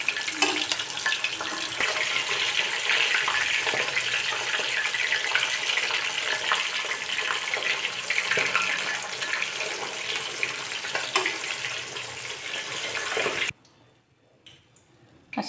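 Fish frying in a pan for a child-friendly, spice-free fish fry gives a continuous loud hiss and crackle that cuts off abruptly near the end into near silence.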